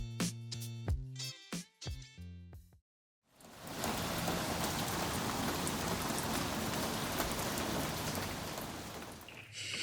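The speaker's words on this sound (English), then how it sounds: "It's been raining all day, so we've been trapped in the camper." Steady rain falls outside a camper, a dense constant hiss of drops that runs unbroken for most of the clip after a short stretch of other sound and a brief silence. No one speaks.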